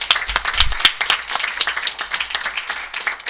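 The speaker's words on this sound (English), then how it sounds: "So if we can give a round of applause to" Sustained applause at a city council meeting, a crowd clapping steadily and fairly close throughout, with no talking over it.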